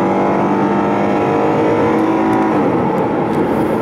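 A rental car with a six-speed automatic cruises steadily through Montana wilderness, its engine and road drone loud and constant from inside the cabin, with no talking.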